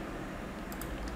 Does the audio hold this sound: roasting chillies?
no